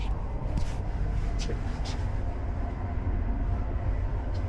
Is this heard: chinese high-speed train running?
yes